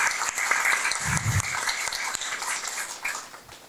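An audience at a book event claps for two guests, with a steady wash of applause that fades slightly toward the end, and a faint voice briefly mixed in.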